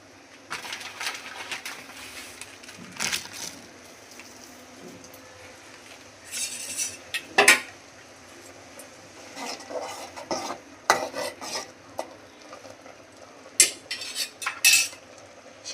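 A utensil scrapes and clinks against a pot while vermicelli (semai) is stirred into boiled coconut in a home kitchen, with irregular metallic taps and scraping bursts spaced apart, up close and with no talk.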